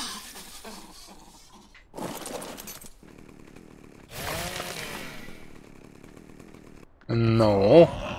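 Chainsaw in the survival video game ARK, cutting harvest from a mantis: bursts of buzzing saw noise between gaps, ending in a louder, sharper final burst.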